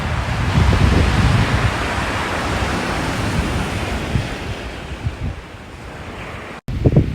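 Ocean surf at a Malibu beach rolls in as a steady, loud wash of broadband noise with wind buffeting the microphone, a brief dropout near the end before the surf resumes.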